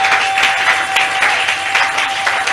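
Church congregation applauding during a Sunday service, dense rhythmic clapping that pulses steadily throughout and sounds full and close.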